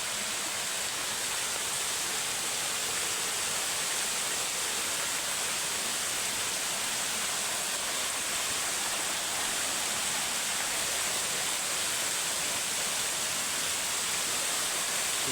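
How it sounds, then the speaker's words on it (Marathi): Rautwadi waterfall at Radhanagari, Kolhapur, roars as a continuous, broad, steady rush of falling water, loud and unbroken with no voices. "मित्रांनो हे धबधबा आवाज होतो."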